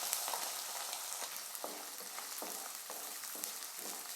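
Garlic fries in hot oil for a Kerala-style tuna fish pickle, a steady loud sizzle broken by regular scraping strokes of stirring in the pan, with no talk.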